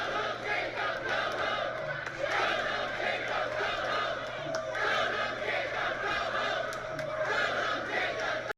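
A large protest crowd in Minneapolis yells and chants at the city's mayor, a dense roar of many raised voices surging and falling continuously throughout.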